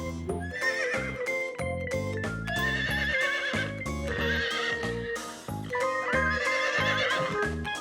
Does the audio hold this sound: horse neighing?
yes